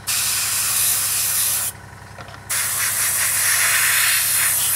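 Airbrush or spray paint hissing a coat onto a Tamiya 1/48 Spitfire Mk.1 model, a continuous close spray that cuts out for under a second mid-way and then resumes.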